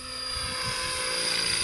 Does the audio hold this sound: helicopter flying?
yes